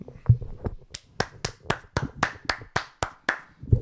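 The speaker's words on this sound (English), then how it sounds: "And a clap for you as well." Steady hand clapping, about a dozen sharp claps in an even rhythm, close and fairly loud, with no talking.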